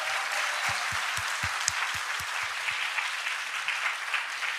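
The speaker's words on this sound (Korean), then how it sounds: "주님께 감사와 영광의 박수 올려야 됩니다." A church congregation claps together in sustained, dense applause that fills the room evenly, with a few heavier low thumps near the start.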